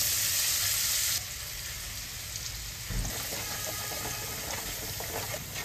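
Green garlic and onion frying with cumin, turmeric and asafoetida in a pan, giving a continuous close sizzle that is loudest for the first second, then settles into a steady hiss with faint stirring; no voices.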